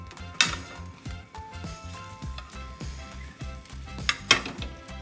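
Thin egg omelet cooking in a square pan, with a utensil scraping and scooping from the edge: repeated clinks and metallic scrapes in an irregular rhythm, a few sharper knocks, close by with no talk.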